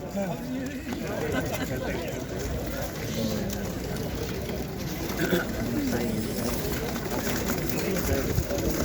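Pigeons coo and flutter at a busy outdoor pigeon market in İzmir, their low calls scattered beneath continuous close-up conversation among traders and buyers.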